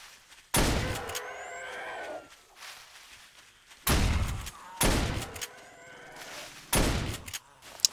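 Three heavy, booming shots fired at zombies in the video game 7 Days to Die, spaced a few seconds apart, each followed by a ringing decay and scattered creature noises.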